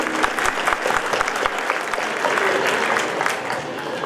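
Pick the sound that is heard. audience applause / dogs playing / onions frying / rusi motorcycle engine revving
audience applause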